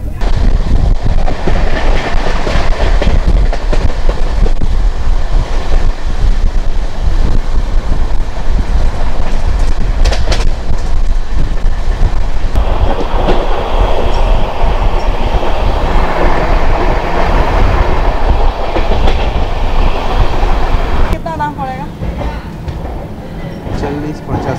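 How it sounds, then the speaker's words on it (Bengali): Black Diamond Express train with new LHB coaches running on rails after leaving Kumardubi, a loud steady rumble and rattle of wheels that carries on continuously, easing slightly near the end. "আমাদের ট্রেন কুমারডুবি থেকে ছাড়লো"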